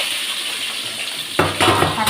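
Onions and curry leaves sauté in a pan for kuzhambu, a low sizzle that turns into louder clattering of a spoon scraping the metal pan partway through.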